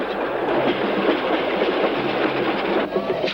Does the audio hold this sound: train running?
yes